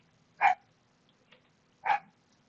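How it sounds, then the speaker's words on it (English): A dog barks twice, short sharp woofs about a second and a half apart, fairly close and clear over a quiet background with no talking. "And then my dog is barking for no reason."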